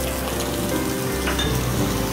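Minced garlic hitting hot oil for a Kerala-style fried fish curry, a steady dense sizzle and crackle of frying that runs continuously and fairly loud with no voices.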